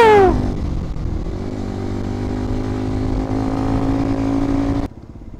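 A motorcycle engine drones steadily up close while riding toward hilly terrain in Palanan, Isabela, with a rising rev at the start and a sustained hum before cutting off near the end.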